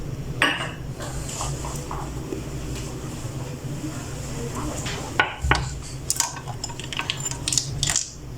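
A spoon works through rice flour and gram flour batter in a bowl for onion pakoras, giving intermittent clinks and scraping taps against the bowl, close by with uneven rhythm and a few sharper knocks.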